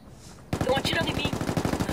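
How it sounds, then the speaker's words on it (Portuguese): Automatic gunfire in the Ghost War video game bursts in after a half-second of quiet, a dense rapid volley of close, loud shots with no talk over it. "Estão atirando em mim."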